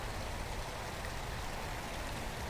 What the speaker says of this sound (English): And this is a waterfall.